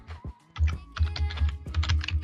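Fast typing on a computer keyboard, close and crisp, with bursts of rapid clicking keystrokes separated by short pauses, alone without voices.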